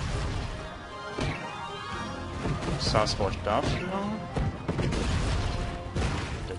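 Cannon fire and crashing buildings in the strategy game Cossacks 3, heard as mid-level booms and smashing impacts scattered through several seconds under continuous talking.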